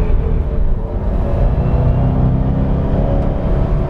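A Subaru WRX STI Type RA sedan with a turbocharged four-cylinder engine pulls under acceleration, giving a steady, loud, close engine drone with rising revs throughout and no talk.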